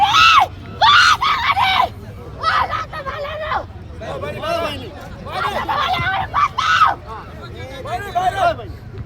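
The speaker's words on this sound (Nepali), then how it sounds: "हुटिङ चाहिँ यतिकै चाहिँ दिनु पर्यो क्या उर्लाबारीलाई" Football crowd hooting and shrieking for the Urlabari team, with repeated loud, high-pitched yells rising and falling over constant close crowd chatter.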